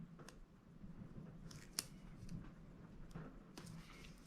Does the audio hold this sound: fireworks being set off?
no